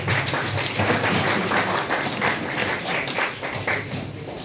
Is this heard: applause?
yes